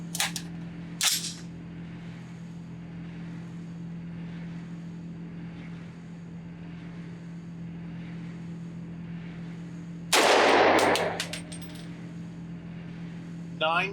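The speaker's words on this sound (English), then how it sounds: "Let's go back to the range, run some subsonic ammunition through it" Two sharp suppressed rifle reports from subsonic ammunition through a KAC 762 QDC/CQB-PRG compact .30 cal suppressor, about nine seconds apart, each a brief crack with a short ringing tail over a steady low outdoor hum.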